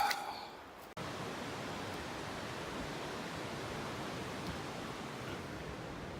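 A mountain stream on the Skyline trail in Jasper National Park rushes along the hiking path, a steady broadband flow of water after a brief rustle at the start, constant and fairly close.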